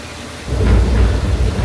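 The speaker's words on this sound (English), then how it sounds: "Cue thunder." A deep thunder rumble rolls in suddenly and holds as a loud, low roar over a steady hiss of falling rain on a studio backlot rain set at Universal Studios Hollywood.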